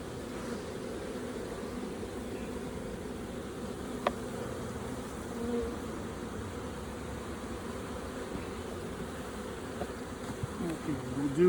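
Honeybees buzz as they are sampled from a hive and shaken down into a container. The droning hum is dense and continuous, close by and steady, with one brief tap partway through.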